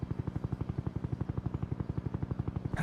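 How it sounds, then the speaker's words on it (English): Air Force CH-53 helicopters taking off, a steady, fast rotor thump pulsing evenly throughout with a low engine drone beneath, heard from a moderate distance. "Air Force CH-53 helicopters take off and head for Koh Tang Island"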